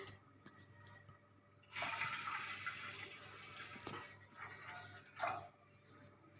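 Toor dal lentils are washed by hand in water, giving sloshing and splashing with a few drips. The washing swells in the middle and fades toward the end.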